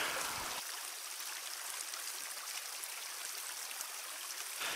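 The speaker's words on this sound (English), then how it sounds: "Listen to the babbling brook." A babbling brook flows in a continuous hiss of trickling, gurgling water, steady and fairly faint with no voices over it.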